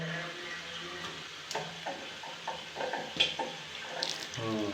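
Water runs steadily from a tap fed by a newly installed pressure tank, a continuous splashing hiss with faint clinks and knocks over it.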